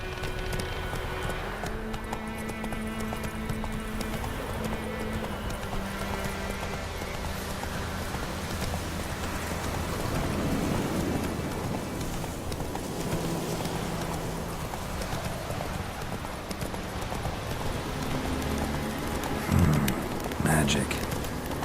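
Roach the horse trotting through rain in The Witcher 3, with rhythmic hoof clops over a steady hiss of rainfall across a long stretch, while voices and game music play over it.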